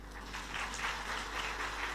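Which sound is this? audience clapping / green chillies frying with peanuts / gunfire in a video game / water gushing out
audience clapping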